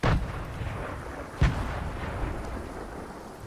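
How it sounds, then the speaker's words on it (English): Grenade explosions in the Fortnite Tank Battle mode, heard as a heavy low boom at the start and a second sharp blast partway through, each trailing off into rumbling decay. "Who's throwing nades over here?"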